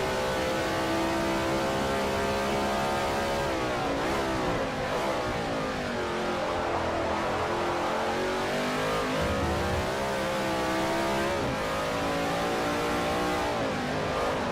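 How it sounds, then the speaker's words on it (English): A NASCAR stock car races around Road America in Forza Motorsport 4. Its engine roars loud and close throughout, rising and falling in pitch as it revs through gear changes and corners, with no talk. "driving our NASCAR around Road America"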